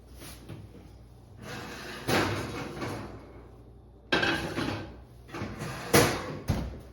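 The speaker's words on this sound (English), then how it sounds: "So I am going to take my pot out of the oven." Oven door and a hot pot being handled in a home kitchen: clunks and metallic scrapes, a door swinging open, then sharp clanks as the heavy pot is set down, in separate bursts with quiet gaps.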